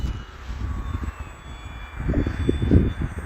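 An RC model airplane on a 3S battery at about three-quarter throttle, a moderate electric motor whine and airflow drone that swells louder toward the end as it passes nearer, with no one speaking.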